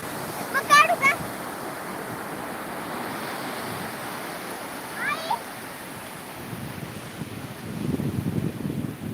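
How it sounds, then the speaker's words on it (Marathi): Big sea waves crash on the shore as a steady, close surf roar that swells near the end, with wind buffeting and a few brief voices over it. "बापरे केवढे लाटा येतात मोठ्या मोठ्या"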